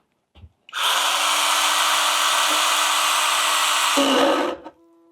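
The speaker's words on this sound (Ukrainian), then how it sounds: "Ну, не хоче штіль різати, як бачите, тупо не хоче." Cordless STIHL GTA 26 mini chainsaw with a fully charged battery runs loud and steady for about four seconds, then its tone drops as it bogs down in the cut and abruptly stops, followed by a brief faint rattle.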